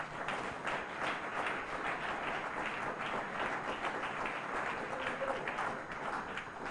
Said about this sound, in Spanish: Vou dar um aplauso para o grupo aqui.